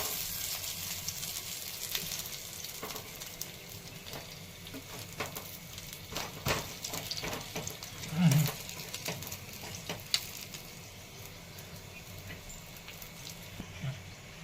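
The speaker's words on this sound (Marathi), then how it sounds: "सगळ्या वड्या आपल्याला भाजून घ्यायच्या" Alu vadi, slices of rolled colocasia leaf, shallow-fry in a pan with a steady, fairly soft sizzle and crackle that holds for the whole stretch, with a few brief clinks and a louder pop of spatter partway through.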